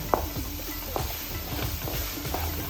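Tomatoes roasting in a pan for a jugni vegetable curry, giving a soft sizzle with a few stirring clicks and scrapes of a spoon close by, no voices.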